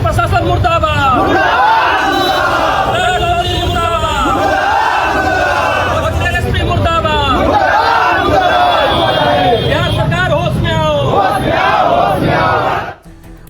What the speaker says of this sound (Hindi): भरत तिवारी के हक में लोग सड़कों पर उतरे, प्रदर्शन कर रहे